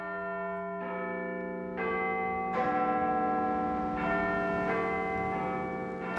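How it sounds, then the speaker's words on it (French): Big Ben, Britain's largest bell, rings out over the Palace of Westminster in London, with a series of deep, resonant strikes about a second apart, each sustaining a long, overlapping metallic hum. "la plus grosse cloche de Grande-Bretagne, Big Ben, résonne toujours par-dessus le palais de Westminster"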